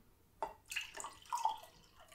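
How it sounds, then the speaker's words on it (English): Vinegar poured into a cup, a quiet trickle of liquid with a few small splashing drips and gurgles, faint and close in an otherwise quiet room. "Now we're going to pour the vinegar in."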